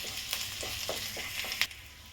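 Ginger, garlic and green chilies fry over a high flame, giving a soft steady sizzle with a few light stirring scrapes and one sharper clink near the end.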